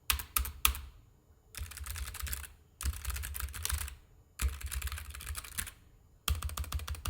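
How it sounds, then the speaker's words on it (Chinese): Typing on a mechanical keyboard with brown (tea) switches comes in dense bursts of close, crisp key clicks, separated by short pauses, with no talk. "那轴体呢，我选的是它的茶轴，打字的时候呢就不需要很大的力度，很容易上手，声音呢也不会像机械键盘那样嘈杂。"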